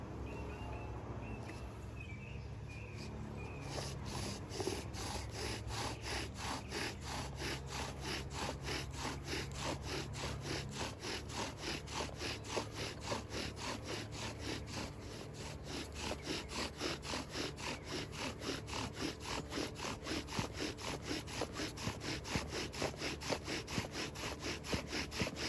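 A bow drill spins a yucca spindle to make fire, giving a steady, rhythmic back-and-forth rasping of wood on wood. The strokes are close and fairly loud, continuing for the whole stretch with no talking.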